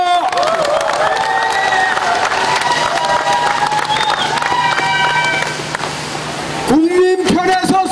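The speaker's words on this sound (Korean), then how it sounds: "여러분들의 마음도 한 명 같으면 박수 한번 보내주십시오" A large crowd at an outdoor campaign launch rally for a Democratic Party candidate in Icheon claps and cheers loudly, with shouting and tonal noise mixed in, before a voice cuts in near the end.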